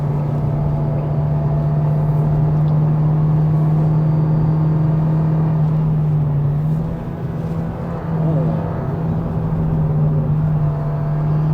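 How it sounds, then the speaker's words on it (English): A 2023 Toyota Vios engine hums steadily at cruising speed on a hill climb, a constant low drone with road rumble, shifting slightly in pitch midway through. "watching the car drive and hearing the engine sound going at normal speed"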